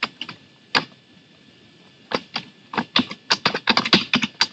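Computer keyboard keys clatter in irregular bursts, a few isolated taps at first, then a quicker run of close, crisp keystrokes.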